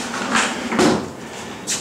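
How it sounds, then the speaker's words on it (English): Sliding doors in a furnace and water heater room pushed open by one hand, a few rough grinding slides in short strokes, close and fairly loud. "So I'm trying to slide these doors with my one hand right there."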